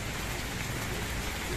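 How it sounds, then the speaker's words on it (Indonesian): Light drizzling rain falling outdoors: a steady, soft, even hiss of patter with no breaks and no voices. "Cuma ini cuacanya lagi hujan"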